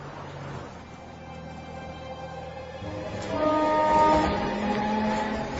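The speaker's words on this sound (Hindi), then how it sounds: "शिवाजी, ट्रेन चल पड़ी।" A train moving off, a steady low rumble and rail noise that builds in loudness partway through, with a rising whine joining it.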